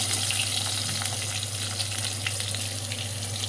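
Chopped garlic sizzles steadily in a pan while gobi manchurian masala is prepared, a dense, continuous close frying hiss with occasional faint crackles and no talking.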